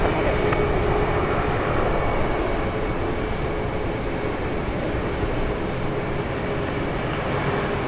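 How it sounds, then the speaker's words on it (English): A Boeing 737-700 airliner on flight 1708 to Orlando passes at Dallas Love Field, its steady engine roar filling the air continuously under outdoor ambience with no clear rise or fade. "So I believe this is flight 1708 you see there, 737-700."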